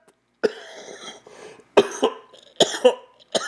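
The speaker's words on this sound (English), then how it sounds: "Coughing up a lung over here, bro." Several harsh, close coughs in quick bursts, with short pauses between each fit.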